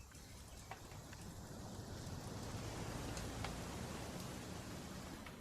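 Steady rain in the video game What Remains of Edith Finch hisses evenly throughout, a dense wash of falling drops with a few brighter patters, no voices.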